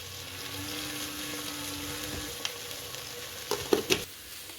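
Onions and horse gram sauté in a pan with a soft, steady sizzle at low level, then a few sharp clinks and stirring scrapes come near the end.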